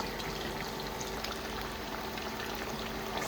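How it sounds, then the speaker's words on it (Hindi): Fish frying in a pan for a home-cooked fish curry, a steady, quiet hiss and sizzle of hot oil that runs without a break, with no voices over it. "थोड़ा और फ्राई करेगा."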